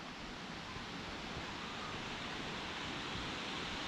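Waterfall at Van Hornesville Falls: a steady, unbroken rushing roar heard from some distance above, even and constant throughout, with no voices.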